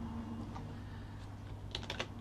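Quiet typing on a computer keyboard, a few soft key taps early on followed by a quick cluster of sharper clicks near the end, with no talking.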